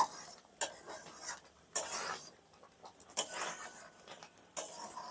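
Palm kheer being stirred in a pot, a spoon scraping and knocking against the metal in irregular strokes with quiet gaps between them, close and without talk.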